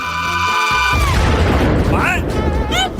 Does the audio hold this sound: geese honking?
no